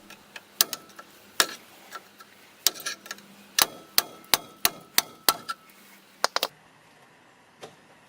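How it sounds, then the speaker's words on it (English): A stuck brake pad is tapped on the front brakes of a Vauxhall Antara, giving a series of sharp metallic taps, some irregular and others in a quick even run, then fading to quiet. "Even trying to tap the pad out shows that it is well and truly stuck."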